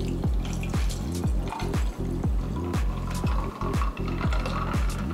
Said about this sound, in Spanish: Ahora para servir vamos a agregar un poco más de hielos y nuestra deliciosa agua.